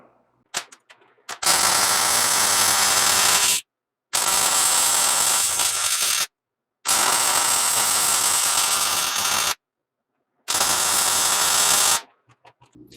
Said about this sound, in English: So let's go ahead and weld this in